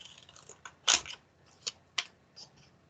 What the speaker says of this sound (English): I'm going to cut the extra paper off around the bird